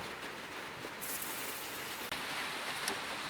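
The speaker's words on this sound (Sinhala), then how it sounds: "වහිනවනේ." Rain falls steadily as a soft, even wash of patter, faint and continuous, with no voices.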